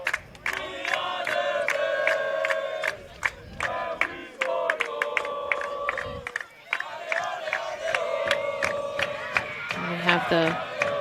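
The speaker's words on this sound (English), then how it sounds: "We have the goal-scoring chant going here in the last 45 seconds." Crowd at a women's college soccer match singing a rhythmic goal-scoring chant in the closing minute, loud and sustained with repeated sharp claps or beats and some cheering throughout.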